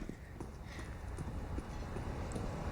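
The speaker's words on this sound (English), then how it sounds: "He can hear these footsteps" Footsteps in CS:GO, a steady run of quick soft thuds on a hard surface at a brisk running pace, fairly close, under a constant game-background hiss.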